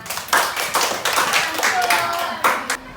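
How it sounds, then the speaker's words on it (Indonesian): Elementary school fourth-grade students in a classroom clap their hands together in a lively burst of uneven claps lasting a few seconds, with children's voices talking underneath. "Beri kita tepuk tangan."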